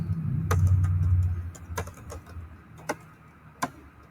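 Computer keyboard keys tapped while typing code, a handful of sharp, irregular clicks close by, following a low rumbling murmur in the first second and a half.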